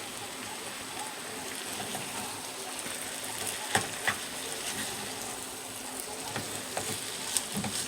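Seasoned meat sauce for homemade spaghetti sizzles steadily in a pan while being stirred, a continuous close frying hiss with occasional soft clinks from the stirring.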